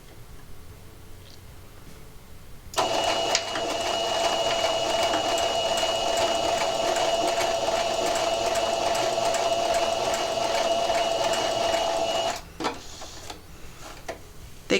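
A sewing machine runs steadily, backstitching and then stitching around a curve on fabric for a Christmas tree project, a close, even mechanical whir lasting about ten seconds before stopping, with faint handling clicks around it.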